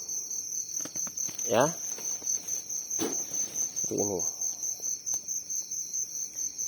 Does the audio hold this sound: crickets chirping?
yes